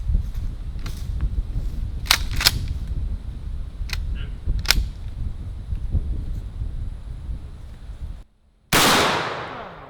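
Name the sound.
shotgun firing a slug or double-aught buckshot into a wall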